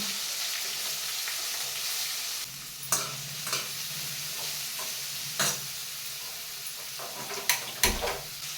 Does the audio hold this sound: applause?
no